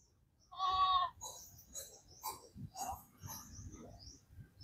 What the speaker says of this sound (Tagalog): Ating mga kambing